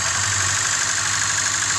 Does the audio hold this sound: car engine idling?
yes